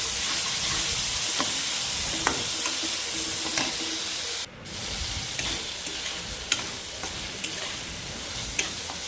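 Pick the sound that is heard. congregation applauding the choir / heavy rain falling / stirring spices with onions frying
stirring spices with onions frying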